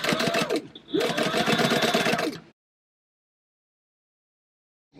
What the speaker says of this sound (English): I've got a 3-stitch length and I'm just sewing across.